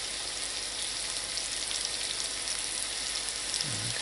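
Chunks of cut-up breakfast casserole ingredients fry in a pan with a steady, dense sizzle that crackles evenly and close throughout, with no talking over it.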